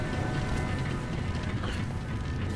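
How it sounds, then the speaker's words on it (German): A lever stops a gear wheel in a Lara Croft temple game, heard as steady grinding, creaking machinery with faint ratcheting clicks, close and continuous, with no speech. "Ich ziehe jetzt den Hebel und dann stoppt dieses Zahnrad."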